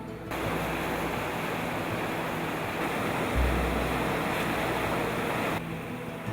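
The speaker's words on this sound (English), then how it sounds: "where water runs fast and furious" Fast, turbulent water in Peril Strait, Alaska, rushes as a dense, steady roar from a boat, loud and continuous with a brief low rumble midway.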